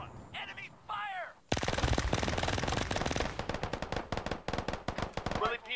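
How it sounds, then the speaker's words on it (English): Sustained automatic gunfire in the Arma 3 S.O.G. Prairie Fire war game, a loud rapid burst of rounds rolling on for several seconds, preceded by brief shouted radio chatter. "Enemy fire!"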